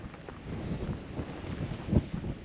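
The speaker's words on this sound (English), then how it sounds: "Pretty windy, so hopefully this little windsock is doing its job." Steady wind buffeting the microphone outdoors on a mountain hike near Tama Lakes, New Zealand, a low rumbling roar with a few stronger gusts, no voices.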